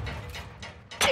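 A weapon magazine reload in Call of Duty: soft mechanical clicks and rattles, then a sharper metallic snap as the magazine seats, all brief and close.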